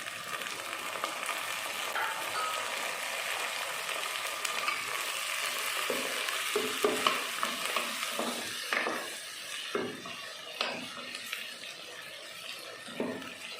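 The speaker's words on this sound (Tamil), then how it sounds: "தக்காளி வெங்காயத்தை நல்லா வதக்கிடலாம்" Chopped tomatoes and onions sauté in a pan for a Tamil taro kara kulambu. There is a soft sizzle under repeated stirring scrapes and clatters that grow busier and sharper toward the end.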